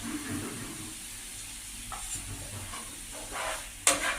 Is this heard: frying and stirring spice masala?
yes